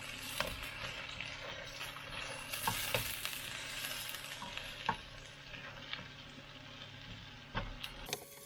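Small lamb chops frying in a pan at a forest campsite, a steady close sizzle with occasional sharp pops and crackles, no voices.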